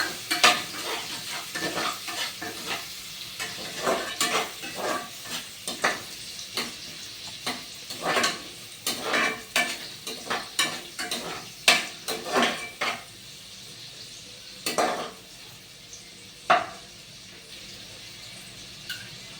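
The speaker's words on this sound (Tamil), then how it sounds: "ஆயில் சூடானோன்னா வெங்காயத்தை போடணும். போட்டு கோல்டன் கலர் வர வரையும் ஃப்ரை பண்ணணும்." Onions sizzle in hot oil as a spoon stirs and knocks against the pan in a loose, repeated rhythm, close and fairly clear, with no talking.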